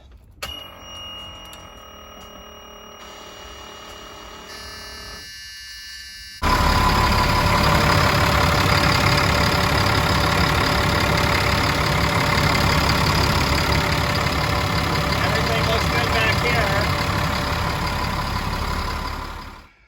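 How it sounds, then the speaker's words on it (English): A Cat 3126B diesel engine in a Holiday Rambler Endeavor RV cranks over after a few quiet seconds with a faint tone, then catches and settles into a steady, loud, rumbling idle that runs on. "Now let's start the engine, see what happens."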